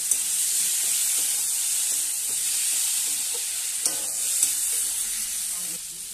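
Tangra fish curry stirred in a hot pan, a bright continuous sizzle with repeated spoon scrapes and a few sharper clinks, close and fairly loud with no talking.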